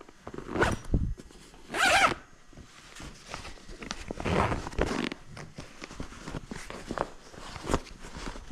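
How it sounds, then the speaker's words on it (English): A zipper is pulled shut in a couple of sharp rasping strokes, followed by softer handling rustles and shuffling, close up while tacking up a horse for a ride, with no talk. "Zip it up, just like that."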